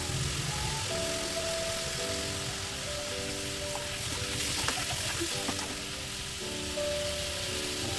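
Spaghetti stir-fry with carrot sizzles steadily and loudly in a pan right after water goes in, a dense close crackle that runs throughout with faint tonal whines over it.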